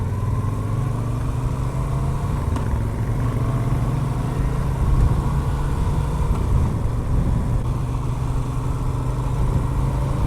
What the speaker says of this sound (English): Let's hear it again. The engine.